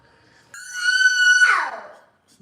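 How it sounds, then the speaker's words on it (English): One person gives a loud, sustained high-pitched scream lasting about a second and a half, rising in strength then trailing off into a breathy fade, close and alone. "Why you doing all that screaming for,"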